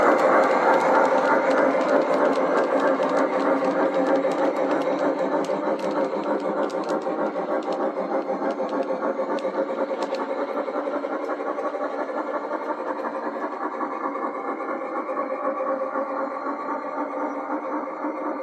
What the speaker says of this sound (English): Off the train goes into the distance.